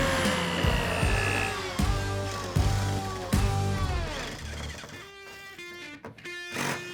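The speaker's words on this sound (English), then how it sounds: "we're going to drill it with the 1/8" drill bit" A power drill with a 1/8-inch bit runs in repeated whirring bursts that rise and fall in pitch while drilling holes for screws during a privacy partition installation, up close and loud.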